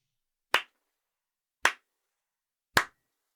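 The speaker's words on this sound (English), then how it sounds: "Is this the 80s slow clap?" Three single hand claps spaced about a second apart in a deliberate slow-clap rhythm, crisp and isolated against silence, moderately faint.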